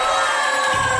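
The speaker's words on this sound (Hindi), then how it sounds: "चलो सब तालियों से उनकी विदाई करो" A studio audience applauds and cheers as eliminated twin pairs leave a game-show competition, a loud, continuous burst of clapping and crowd noise.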